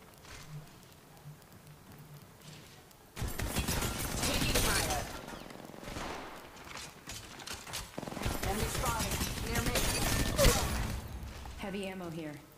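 Gunfire rattles in the video game Apex Legends, loud bursts of shots arriving in clusters with mechanical clatter and in-game voice callouts mixed in.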